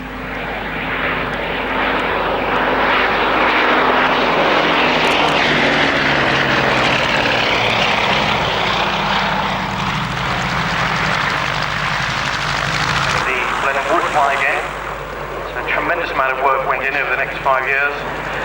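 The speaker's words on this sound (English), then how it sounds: "eventually this second Blenheim airborne, flown by Hugh Proudfoot this year, in fact." A Bristol Blenheim piston-engined twin at an air show droning steadily overhead, with loud propeller and engine hum and harmonic tones throughout, while a commentator talks over it.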